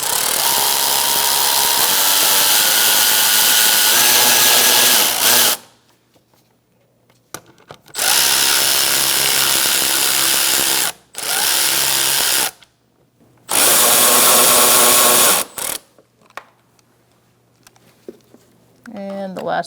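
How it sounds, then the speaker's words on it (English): Power tool tightening battery hold-down bolts on a 2012-2018 Ford Focus, three loud close bursts of whirring and ratcheting separated by short pauses, with no talk over it. "Once you get it lined up, you can tighten down your bolts."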